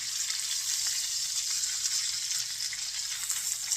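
A steak sizzles steadily in a hot pan, giving off a continuous bright frying hiss with small crackles and no voices over it.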